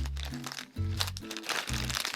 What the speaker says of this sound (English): go ahead and put it into your Ziploc size snack bag